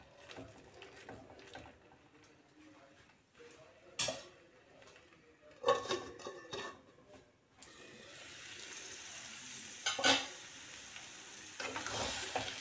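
Spiced potato curry, made without onion or garlic, frying in a pan: a steady low sizzle with intermittent stirring scrapes and clatters of utensils against the pot, fairly quiet and close, no talk.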